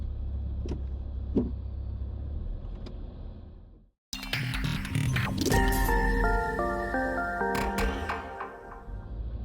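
A vehicle drives into a forest campground in high range, its engine and road rumble steady and fairly loud after a brief break, with mechanical clicks and whirs on top.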